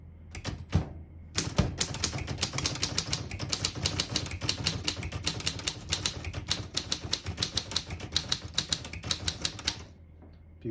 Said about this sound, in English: that typewriter sound that you can't really reproduce that on these newer typewriters